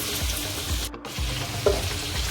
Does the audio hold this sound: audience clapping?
no